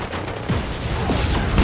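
Tank cannon fire in the Just Cause 3 video game comes as a rapid, rough string of booming blasts and rumbling explosions, loud and continuous throughout.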